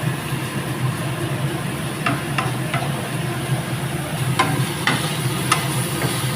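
Bitter gourd frying in a little light oil in a pan while being stirred, a steady sizzle throughout with repeated clicks and scrapes of the utensil against the pan, close and fairly loud.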